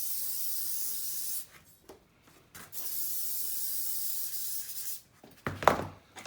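Spray-on adhesive hisses from a can during a 1974 Corvette rear compartment rebuild: two long steady bursts, then a pause and a few short sharp spurts near the end, heard up close.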